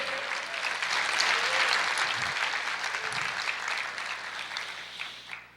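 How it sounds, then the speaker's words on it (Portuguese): A church congregation applauding the Lord during a sermon. Dense, sustained clapping from a large crowd, building early and then gradually tapering, heard alone without speech. "Você pode aplaudir o Senhor?"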